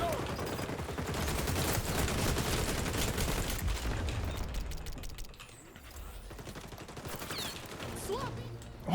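Gunfire in a first-person shooter video game with a shotgun, a dense burst of rapid shots and mechanical clatter that thins out after a few seconds and ends in a sharp blast, with some talking mixed in.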